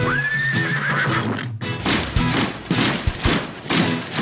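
A horse gives a high, shrill whinny up close, followed by heavy thuds and hoof clatter.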